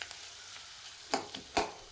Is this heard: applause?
no